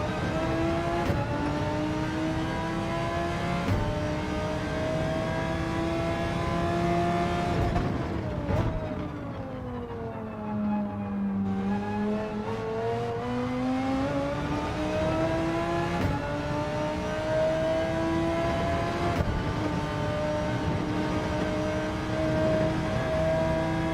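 A Porsche race car engine howls through a lap in Gran Turismo 7, holding a strong steady drone, dipping as it slows for a corner and then climbing back up through the revs, loud and close with no talking.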